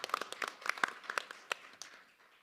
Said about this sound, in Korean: 힘찬 박수로 맞아주실까요?